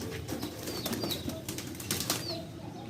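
Pet pigeon released by hand into its cage, wings flapping in a quick burst of rapid feathery beats close by, then settling with lighter rustles.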